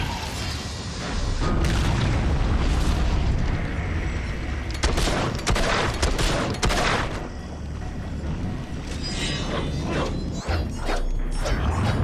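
Magic shooting in Fable 2, loud booming blasts and crackling bursts in quick irregular volleys over a dense rumbling game backdrop.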